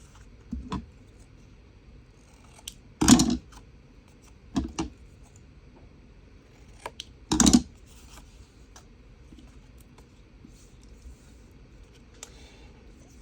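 Scissors cut through a 3 by 5.5 inch paper tag, giving a few short, crisp snips spaced apart, two of them louder and closer, over quiet room tone.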